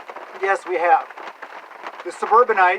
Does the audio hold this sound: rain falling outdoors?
yes